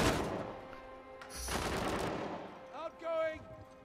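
Bursts of rapid automatic gunfire from an Uncharted 4 multiplayer match, loud and dense at first, then a sharp shot, with a voice talking briefly during the firing.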